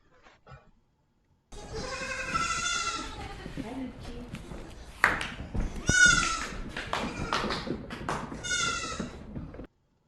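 Several bleats from goats, loud and nearby, repeating over a few seconds with light tapping and shuffling in between.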